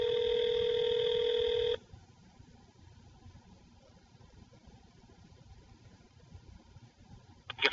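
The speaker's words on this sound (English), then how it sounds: "So I'm gonna call this guy back and say I'm Kendall and see if this works" A phone call to an automated answering line carries a steady electronic tone that cuts off, followed by a faint line hiss and a short burst of keypad-like beeps at the end.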